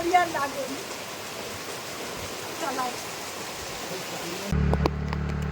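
Heavy rain pours beside a canal, a steady broadband hiss covering everything, with brief voices heard under it and a louder low rumble near the end.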